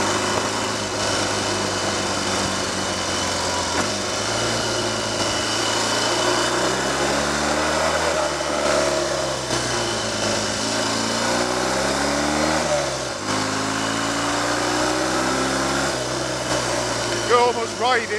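A Triumph/Royal Enfield Trifield 500 trials motorcycle engine runs steadily and close, with its pitch rising and falling through repeated revving for the whole stretch.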